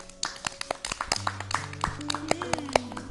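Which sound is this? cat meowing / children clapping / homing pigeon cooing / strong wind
children clapping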